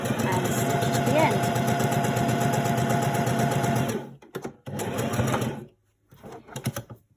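Sewing machine stitching a COVID-19 face mask, a steady fast mechanical whirr that runs for several seconds, then stops and starts in short bursts, under a voice talking.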